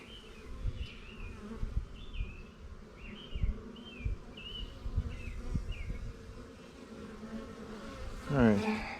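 Honeybees buzz steadily around an open beehive while the hives are being rearranged, a dense insect drone with occasional faint bird chirps and a brief closer burst of noise near the end.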